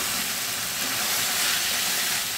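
Bain fish with potatoes sizzles in hot oil in a pan, a steady, fairly quiet broad hiss of frying that carries unbroken throughout.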